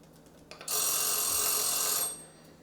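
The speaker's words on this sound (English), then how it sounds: "That's our timer for another recipe that we're working on" A kitchen timer goes off in a home kitchen while waffles are being made, giving one loud, continuous, bright metallic ring lasting about a second and a half before fading, with no voices over it.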